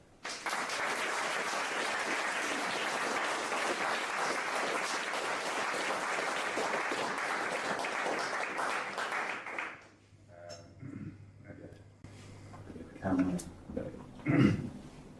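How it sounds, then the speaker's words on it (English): Sustained applause from a startup pitch event audience fills the first ten seconds, then fades out; a few voices and shuffling sounds follow. "get ready with that round of applause"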